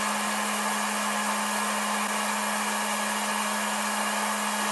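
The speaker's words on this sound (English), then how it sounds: "the temperature control and the fan noise on the end on this charger" Cooling fan of an ISDT T8 1000W 8S DC smart charger running at a constant speed, producing a steady whooshing hiss with a fixed tonal hum, close and unchanging throughout.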